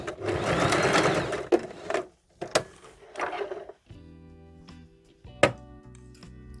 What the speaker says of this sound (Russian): Мы заходим на эту же строчку, которая у нас была, и чуть дальше прокладываем ее.